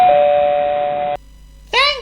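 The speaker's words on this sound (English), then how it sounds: "reaching out, he pressed the bell with his finger." A postman's finger presses a doorbell, which rings with one steady, sustained tone for about a second and then cuts off, followed by a brief voice.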